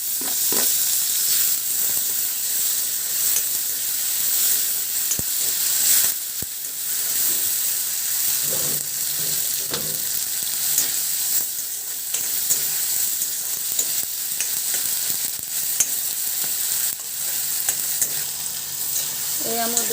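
Onions and chopped chilies fry in a pan with a loud, steady sizzle, broken by scraping and clinking stirring strokes from a spatula close by.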